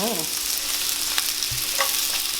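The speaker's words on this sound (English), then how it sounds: "So now that the oil is nice and heated up, we're gonna go ahead and add our onions, our purple onions." Purple onions sizzle steadily in hot oil in a pot, a continuous close frying hiss broken by a few soft stirring knocks, with no talking.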